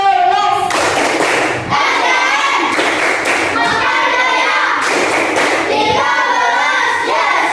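A class of schoolchildren performs the rhythmic 'Tepuk 13' clap for SDN Mekarjaya 13, loud groups of patterned hand claps in bursts, mixed with children's chanting voices close by.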